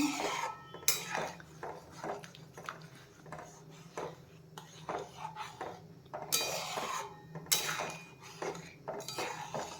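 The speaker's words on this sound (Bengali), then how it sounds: "ডিমের সাদা অংশ এবার এটাকে জাস্ট হাই হিটে খুন্তি দিয়ে নেড়ে চেড়ে নাও" Egg whites are stirred with a metal spatula in a pan over high heat for chicken soup, giving repeated clinks and scrapes of utensil against cookware at an uneven rhythm, close and moderately loud.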